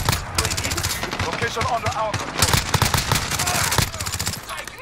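A P90 submachine gun in Modern Warfare fires in long, rapid bursts, loud and close, with short pauses between strings of shots and other game noise mixed in.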